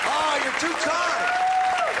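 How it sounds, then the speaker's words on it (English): A stand-up comedy crowd offers polite sympathy applause, a soft, steady patter of clapping held beneath the comedian's continuous talking. "I know sympathy applause when I hear it"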